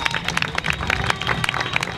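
A crowd claps through a political speech about Tanzania's president, a dense, steady patter of many hands with a murmur of voices underneath, continuing evenly from start to finish.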